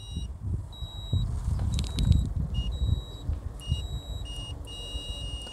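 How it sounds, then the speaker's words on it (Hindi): A multimeter on continuity setting, with one probe touching a vehicle's engine during a temperature-meter circuit check, gives several short, high electronic beeps in an uneven series over a low, rumbling background. "ये बीप बज रहा है।"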